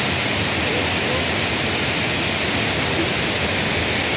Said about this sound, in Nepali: खोलाको आवाजले केही सुनिरहेको छैन